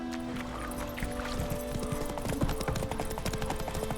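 The horse in The Witcher 3 gallops with a quick, steady clip-clop of hooves close up, over a background of game ambience.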